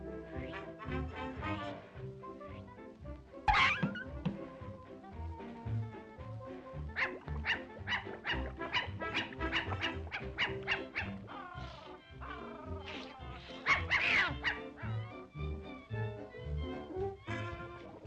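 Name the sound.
dog barking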